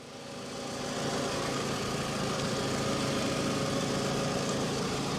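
Engine of a 2007 Toyota RAV4 idling at a salvage yard, a steady low rumble that swells in the first second and then holds an even drone, close by with no voices.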